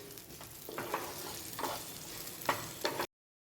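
Roasted peanut powder and green chilies are mixed in a hot pan, with a faint sizzle under a few soft scraping strokes of a spoon for about three seconds before the sound cuts off.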